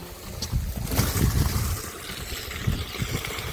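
Water gushing from the pipe of a 1500W BLDC motor pump drawing from a 170-foot borewell through 63 mm piping, a near, rushing splash with surging bursts.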